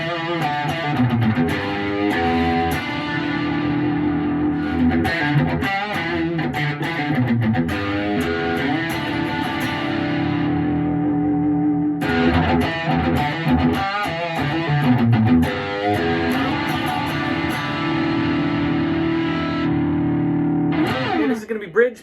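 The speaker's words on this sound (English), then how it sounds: "I'm going to go through the bridge options with distortion, kind of a heavy distortion, just so that you know what they sound like" A Godin Summit Classic CT electric guitar on its bridge P90 pickup plays through heavy distortion, with sustained chords and riffs that ring loud and thick for the whole stretch and pause briefly near the middle.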